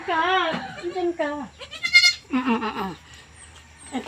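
Several loud, close goat bleats, wavering and drawn out, come in quick succession. A goat herder tends the animals at watering time, and someone speaks between the calls.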